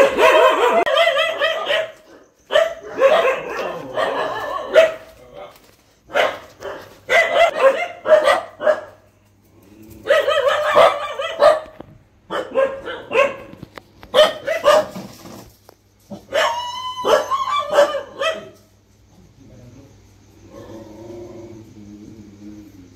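Dogs barking at night outdoors in repeated loud close bursts of sharp barks and yips, pausing between volleys and trailing off into quieter whimpers, with no talk over them.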